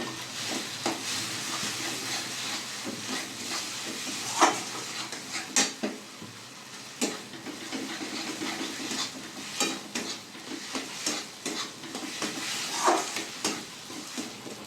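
A filling for potol dorma, made with grated paneer, is stirred in a pan over a soft sizzle, with repeated spoon scrapes and clinks against the metal over a long stretch.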